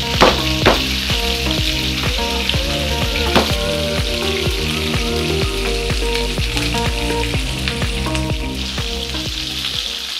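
Beef oxtails fry in a pan with a steady loud sizzle and crackle throughout, with repeated clinks and scrapes of stirring, no talk.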